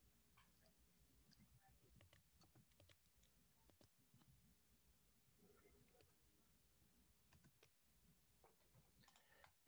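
Soft, sparse clicks of keys on a computer keyboard as a password is typed, faint and close with irregular pauses, ending in a sharper tap.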